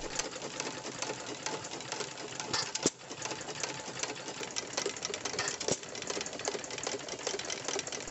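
A vintage Waterloo 1.5 hp air-cooled engine with battery-and-coil ignition runs steadily, giving a fast, dense mechanical clatter like a sewing machine, with a couple of louder knocks standing out.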